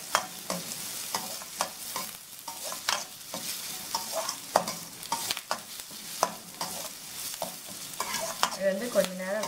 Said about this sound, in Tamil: இது கொஞ்சம் ஒரு 3/4 வாசி பதத்துக்கு நம்ம வெங்காயத்தை வேக விடணும்.